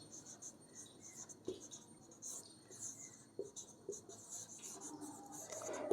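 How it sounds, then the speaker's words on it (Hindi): Marker or chalk scratching out a line on a board during a math proof, a series of faint squeaky strokes and taps with quiet pauses between them. "यहाँ पे एक लाइन लिखते हैं"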